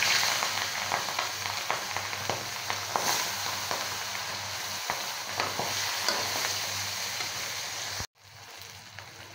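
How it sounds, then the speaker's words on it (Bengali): Pieces of rohu fish fry in hot oil with a loud, dense crackling sizzle and frequent sharp spits and pops, continuing steadily before cutting off abruptly near the end. "তো এবার আমি মাছগুলো ভেজে নেব।"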